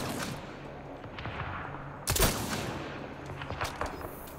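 A single loud gunshot in Mass Effect Andromeda cracks out midway through, sharp and close, set against a constant low hum of game ambience with a few fainter clicks and impacts around it.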